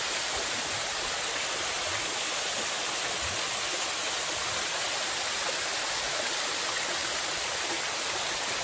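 Waterfall at Momarco Forest Cove in Tanay, Rizal, roaring as a steady, dense rush of falling water, loud and unbroken from start to end.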